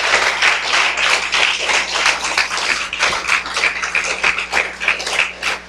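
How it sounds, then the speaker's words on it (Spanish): A church congregation claps for Jesus Christ during a Spanish-language service, a dense, steady burst of applause lasting several seconds with no voices over it. "Dele un aplauso a Jesucristo, hermano."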